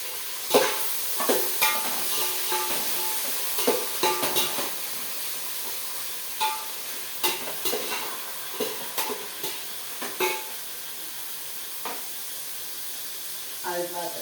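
Tomatoes sautéing with onions in a pan, a quiet hissing fry under irregular bursts of spatula scrapes and taps that come in clusters, close and moderate in level, with no words spoken.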